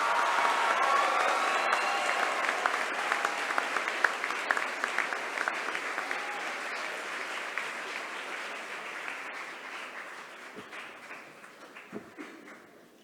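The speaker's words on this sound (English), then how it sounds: "A round of applause for them, please." Audience at a college graduation ceremony applauding the new graduates, a long dense wash of clapping that gradually thins and softens, with a few louder individual claps near the end.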